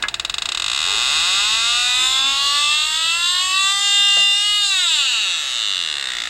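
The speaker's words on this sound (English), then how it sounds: "I'll stick my little sniffer inside here." A refrigerant leak detector sniffer held at a leaking air-conditioning line set starts with a few quick pulses, then rises into a continuous electronic wail that climbs slowly in pitch, loud and close, before falling away.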